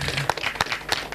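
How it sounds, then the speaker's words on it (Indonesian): Dense, close applause from a group, steady clapping with a few sharper claps standing out over a brief stretch. "Tepuk tangan."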